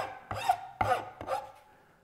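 A hand file rasps across a glued veneer edge in three short, distinct strokes, close and fairly quiet, each a dry scraping rub with a brief pause between, fading after the last.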